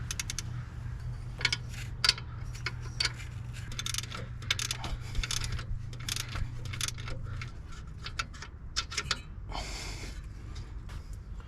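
Metallic clicks, taps and small clinks as an alternator bolt is worked loose on a First Gen Cummins engine, scattered irregular ticks close by over a low steady hum that stops partway through.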